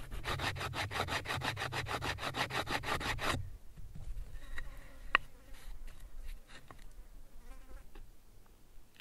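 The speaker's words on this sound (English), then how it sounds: "Now I am carving a shallow hole to place the spindle." A shallow hole is carved into wood to seat a friction-fire spindle. A rapid, loud run of rhythmic scraping strokes fills the first few seconds, then gives way to quieter scattered scratches and taps.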